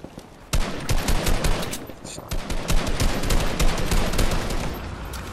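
Loud, close gunfire in the game Fortnite, a sudden onset into sustained rapid shooting that runs for several seconds with steady repeated cracks, no talking over it.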